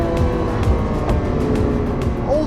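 A Lamborghini Aventador SVJ's V12 engine downshifting, a loud, continuous, rumbling engine roar heard from inside the cabin, with brief sharp bursts and crackles punctuating it.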